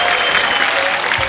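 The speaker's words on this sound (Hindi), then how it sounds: "साइना के लिए जोरदार तालियां" Dense, steady applause from a studio audience on a comedy talk show, loud and sustained from start to finish with no voices over it.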